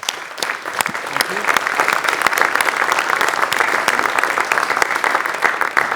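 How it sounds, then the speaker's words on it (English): Audience applause at an awards talk event in Zurich, a dense, steady wash of many hands clapping that holds loud and even for several seconds, with no one speaking over it. "let us thank them as we normally do with a round of applause."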